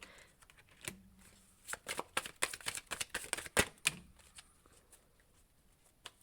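Tarot cards being shuffled, a close, soft flurry of quick papery flicks and riffles that builds in the middle and then fades to quiet taps.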